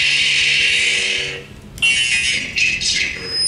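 A Sith sound font on an Ultrasabers lightsaber gives a steady bright electric hum. About halfway through, a sharp crackling clash or swing flares, then the hum continues with louder surges.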